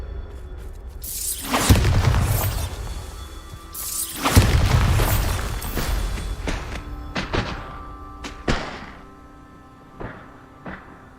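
Bombarda spell blasts in Hogwarts Legacy land as two big, booming explosions a few seconds apart, followed by scattered thuds and crumbling debris impacts that fade out.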